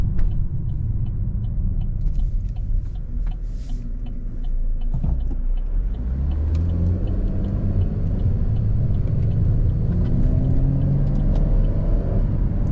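A 2013 Chevrolet Camaro LT convertible on the road, heard from the cabin as a constant loud rumble with engine tones sliding up through the gears and faint ticking in the background.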